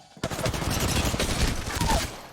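Rapid bursts of automatic gunfire in the battle royale shooter Apex Legends, loud, close and continuous with dense repeated shots.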